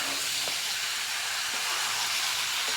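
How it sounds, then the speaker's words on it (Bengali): Curry is sautéed in a pan, giving a loud, steady, hissing sizzle with a few faint utensil knocks beneath it, close up. "কষে নিচ্ছি।"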